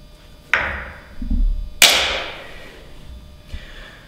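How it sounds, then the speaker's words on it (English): Tin snips cutting through the end of a rivet on a SnowWalker toboggan, two sharp metallic snaps about a second apart, close and loud, with a faint tap trailing after. "we're gonna use these snips here and snip it off about 1/4 of an inch"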